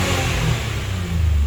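A 2003 Lexus RX300 engine with a faulty knock sensor accelerating, a steady low droning rumble that rises slightly, close and fairly loud with no talking.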